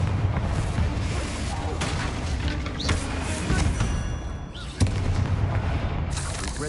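A Confringo fire spell blast in the video game Hogwarts Legacy, heavy booming impacts and crackling bursts layered over dense, loud game combat noise.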